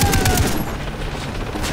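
A mounted heavy machine gun in the video game Far Cry 3 fires in a loud, sustained burst of rapid shots with booming impacts, continuous throughout without talking.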